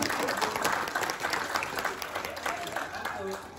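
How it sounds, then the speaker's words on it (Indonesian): An audience claps steadily in a dense, continuous round of applause, with voices faintly mixed in beneath the clapping. "Tepuk tangan untuk kita semuanya"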